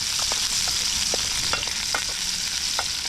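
Ginger fries in a pan with a dense, loud, steady sizzle, punctuated by frequent crackles and scraping stirs of a utensil, with no voices.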